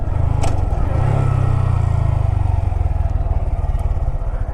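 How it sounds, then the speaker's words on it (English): A motorcycle in third gear engine-braking on a straightaway, a loud close low engine drone with pulsing exhaust as it slows, steady throughout. "Engine brake."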